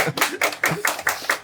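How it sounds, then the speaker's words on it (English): An audience claps in several bursts at a Broadway-style singing performance, the applause coming in uneven waves that swell and fade across the moment, with no talking over it. "Yes, you can clap."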